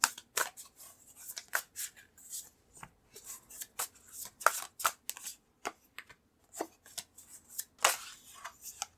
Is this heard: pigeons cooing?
no